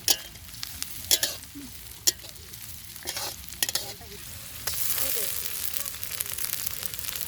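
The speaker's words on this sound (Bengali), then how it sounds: "এই মশলাগুলো আমি দিয়ে ভালো করে ভেজে নেব।" Onion, chilli, cumin and ginger pastes frying in a pan at an outdoor village picnic, a steady close sizzle with scattered clacks of stirring, the hiss swelling louder toward the end.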